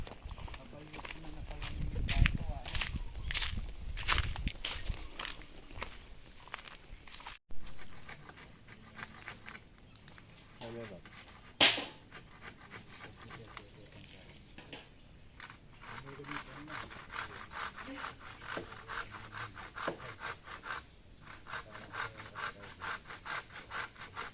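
A hand saw rasps back and forth through bamboo for a bamboo bed in steady strokes, with occasional knocks and people talking nearby throughout.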